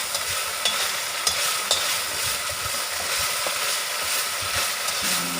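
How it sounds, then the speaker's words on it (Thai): Curry paste for a spicy stir-fry of shrimp and stink beans sizzles loudly and evenly in a hot pan. Occasional faint scrapes and taps of the stirring utensil come through the steady frying. "ผัดเครื่องให้หอมก่อนนะคะ"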